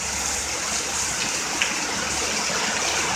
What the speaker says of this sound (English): That's how hard it is raining here in Middleport, Ohio.